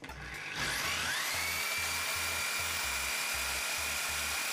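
A vehicle alternator, refitted with a new voltage regulator, spins up on a test rig. Its rising whine settles into a steady high drone, with a low rhythmic thumping pulse underneath that repeats throughout. No voice is heard.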